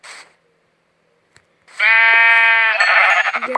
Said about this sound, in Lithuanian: O, jes, avis!